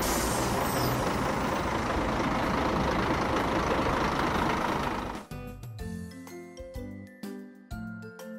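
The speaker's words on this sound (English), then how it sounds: "School bus." A school bus engine rumbles loudly with a hissing roar for about five seconds, then cuts to light, plinking music.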